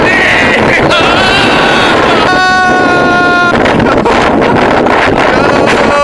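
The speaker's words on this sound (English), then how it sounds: "as you can probably hear, it is really, really windy" Heavy wind on a clifftop buffeting the microphone in loud, constant roaring gusts, with a tonal whine and faint voices mixed in.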